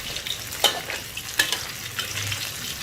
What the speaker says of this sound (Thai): การจะทอดให้เขามีความกรอบเลยนะกรอบข้างนอกนุ่มข้างในค่ะ ใช้ไฟกลางนะคะ